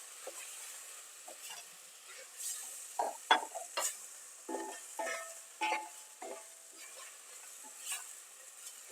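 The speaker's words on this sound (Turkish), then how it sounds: "Soğanla beraber güzelce kavuruyorum." Meat and chopped onions are stirred and fried in a pan over high heat, giving a steady sizzle broken by repeated scraping and clinking stirs, close and fairly loud, with no talk.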